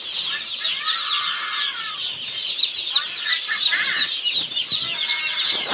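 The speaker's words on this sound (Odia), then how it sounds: "ଆମର ପୁରା ଏବେ ସବୁ 4ଟା ଯାକ ବୋର୍ଡ଼ିଂରେ ଛୁଆ ଏବେ ଛଡ଼ା ହେଇଗଲା।" Broiler chicks in a brooding pen keep up a dense, continuous high-pitched peeping chorus from many birds at once, close and steady throughout, with no talking.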